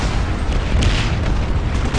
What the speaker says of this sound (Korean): 저 대포는 이제 탱크 같은 경우는 대포로 한 네 발은 맞춰야 깨져요.